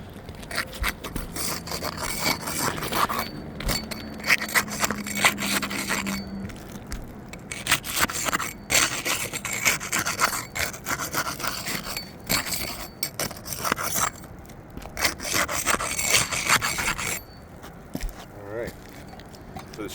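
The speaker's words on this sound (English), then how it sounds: "we are still using the putty knife to unseal the shingles, roof snake tool to remove the nails" Shingles on a house roof being pried unsealed with a putty knife and nails pulled with a roof snake tool, giving repeated close scraping and rubbing strokes with occasional knocks over steady outdoor noise.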